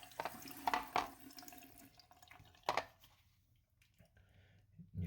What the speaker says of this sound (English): I'm just going to go ahead and use the water.